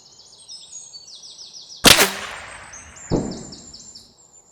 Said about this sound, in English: you will hear the bullet crack 2 seconds after the shooter fired the gun